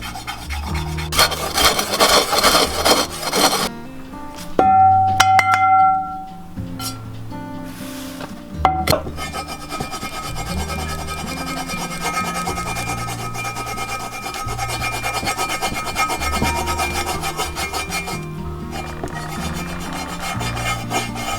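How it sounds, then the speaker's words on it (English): A rust eraser rubs across a cast iron pan in repeated, close, gritty rasping strokes, scrubbing loudly at first and then settling into a steadier rubbing. "It's just like a little eraser. It's a rust eraser."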